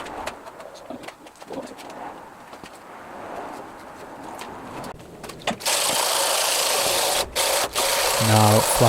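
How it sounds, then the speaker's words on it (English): Body filler on a Sovereign mower deck is sanded smooth. Quiet handling and cooing birds come first, then a loud, steady power-sanding roar runs through the second half with brief pauses. "Now flattening off the filler so it's nice and smooth"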